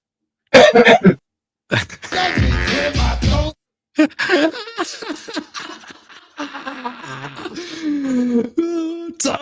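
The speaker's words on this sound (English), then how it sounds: "Let me clear my throat again." A person clears their throat several times in rough, raspy bursts with short pauses, close and loud, followed by a strained vocal sound.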